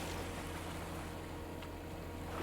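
A boat engine runs at full throttle in the game Stormworks, producing a low, steady, droning rumble mixed with water wash, continuous and fairly faint, with no talking.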